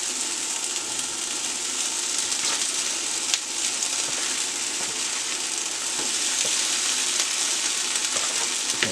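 Corned beef hash with onions sizzles steadily in a pan, a dense, even frying hiss throughout with a few faint clicks of stirring, close and uninterrupted by talk.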